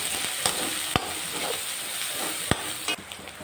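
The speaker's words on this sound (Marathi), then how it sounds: "आपल्याला कांद्याची पेस्ट टाकून घ्यायची आहे आणि याच टाईमला आपल्याला कोथिंबीर टाकायची आहे" Onion paste and coriander frying for a dhaba-style paneer curry, with a steady hissing sizzle up close and a few sharp clicks of utensil on pan, no speech.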